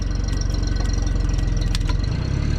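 A hydraulic cutter's power unit engine runs loud and close with a steady, throbbing mid-pitched beat that rises slightly as it revs.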